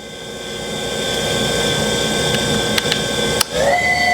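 A 2019 Tormach 1100 MX vertical machining center with a BT30 spindle runs at speed with a steady high whine and bright tonal hum. A couple of faint clicks come near the end, then the pitch shifts slightly.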